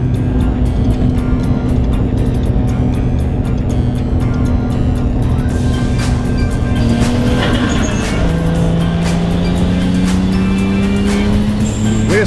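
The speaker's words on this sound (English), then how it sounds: "What's good about these tunnels is they make the car sound really loud." A 1JZ-powered drift car revs hard at Fuji Speedway, its loud, sustained engine note rising and shifting pitch near the end, with a faint tire squeal and echo as if inside a tunnel.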